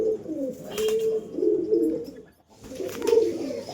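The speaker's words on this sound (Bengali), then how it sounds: "এটা নর পায়রা।" A male pigeon in a loft coos in close, throaty rolling phrases, two bouts separated by a short pause, with no talk.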